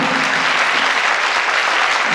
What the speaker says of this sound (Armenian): մեզ մնում է միայն ևս մեկ անգամ ջերմ ծափահարել